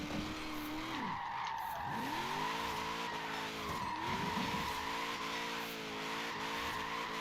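A car drifting in the Forza racing video game, with a continuous engine drone and long wavering tire squeals rising and falling as the car slides through corners, steady and fairly loud.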